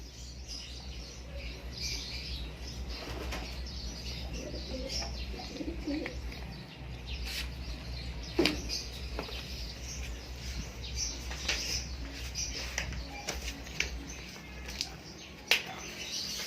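Soft pigeon cooing throughout, with occasional sharp wing flaps and brief chirps over a steady low hum.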